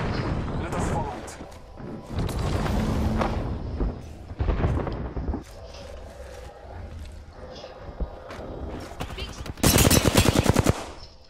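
Bursts of automatic gunfire from an Apex Legends match come in several clusters, with a sharp, loud volley near the end, mixed with game effects and people talking over it.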